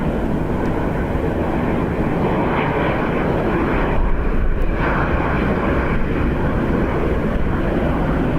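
A Ryanair airliner on approach to Dublin Airport in windy, rainy weather, its engines giving a loud steady jet roar that holds throughout with a slight swell in the middle.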